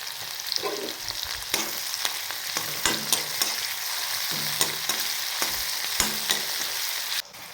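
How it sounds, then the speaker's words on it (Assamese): Onions frying in a pan with ginger, garlic and chili, a constant close sizzle broken by repeated sharp scraping taps of stirring at an irregular rhythm, ending abruptly. "ধুনীয়াকৈ অকণমান ভাজি ল'ম পিঁয়াজখিনি। ইয়াতে এতিয়া আদা নহৰু আৰু কাটি থোৱা জলকীয়াখিনি দি দিম।"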